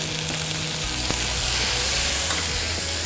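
Vermicelli noodles and white mushrooms sizzle loudly in a hot pan, a steady frying hiss with faint scraping from stirring, close and continuous with no voices.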